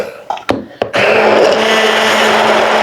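An immersion blender whipping cream in a container, starting with a few short clicks and knocks, then a loud, steady high-pitched whir running continuously close to the microphone.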